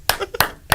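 A few sharp hand claps, spaced roughly a third of a second apart, ring out close and loud during a live sports radio show.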